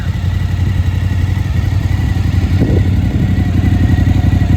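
A Suzuki DL motorcycle engine idles loudly and close, a deep throaty rumble from an open, free-flow exhaust that stays steady throughout.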